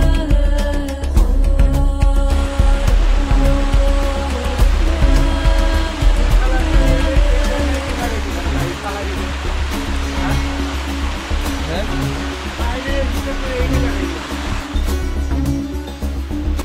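A rain-swollen waterfall on a hill stream in the Bandarban hills roars loudly and continuously, with a tonal background layer running beneath the rushing water.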